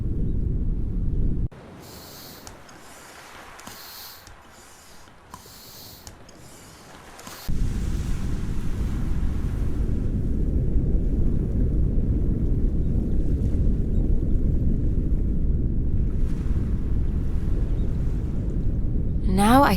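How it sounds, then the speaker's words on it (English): A small dinghy moves out on the open sea in the adventure game Secret Files 4, a steady low rumble of motor and water with wind noise, holding loud and continuous for most of the stretch after a quieter opening. "Let's get this dinghy back on the high seas."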